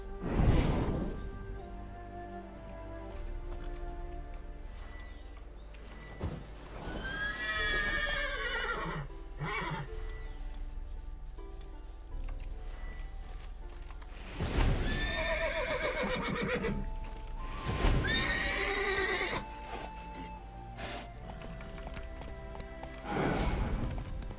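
Two loud horse whinnies from The Witcher 3 rise and fall, one early and one later, over a steady low background hum and music, with no talking.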